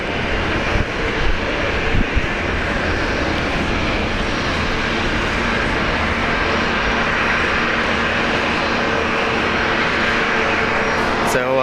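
Qantas airliner taxiing past at Brisbane Airport, a continuous broad jet engine roar at moderate distance with a faint steady whine, while someone talks over it.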